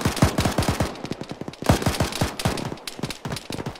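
Rapid automatic gunfire in an Arma 3 ShackTac battle, loud and close, in quick bursts with short pauses and a few single shots, with no voices.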